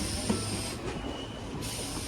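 A MEMU passenger train runs between Vasai and Panvel, a steady close rumble and hiss with a faint wheel squeal and a brief dip in the noise midway.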